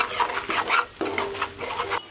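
Chilli, coriander and turmeric powders being stirred in hot oil: about four rhythmic, rasping scrapes of a spoon against the pan, close by, with only a faint sizzle.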